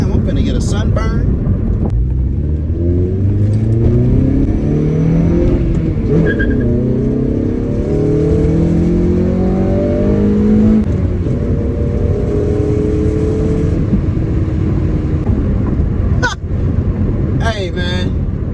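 Acura RSX with a swapped K24 engine revving hard while driving, the pitch climbing and falling repeatedly through the gears, loud and close from inside the car, with brief talk over the engine near the end.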